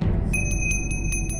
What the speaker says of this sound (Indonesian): Saya akan membunyikan lonceng yang kedua.